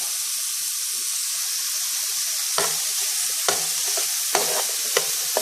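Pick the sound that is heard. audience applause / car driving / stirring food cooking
stirring food cooking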